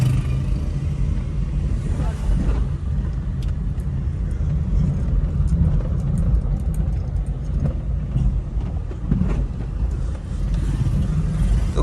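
A Honda City car rolls over a speed bump after a steering rack repair, giving a steady road rumble and engine drone close inside the cabin, with a couple of soft thumps and a voice talking in places.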